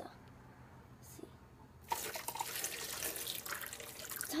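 Soap dumped into water in a sink, heard as a quiet room that suddenly breaks into a loud, steady splashing and running-water rush lasting to the end.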